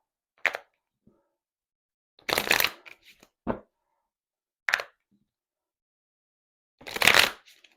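A Book of Shadows tarot deck is shuffled in five short, crisp riffling bursts separated by silent pauses, close and fairly quiet.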